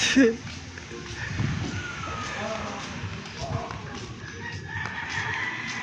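A backyard breeder's rooster crows once amid wind and outdoor background noise, fairly close, with people talking nearby.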